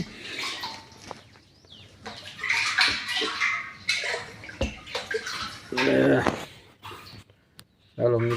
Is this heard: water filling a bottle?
yes